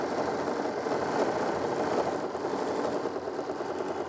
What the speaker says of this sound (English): you can hear the machine sewing faster or slower according to how fast or slow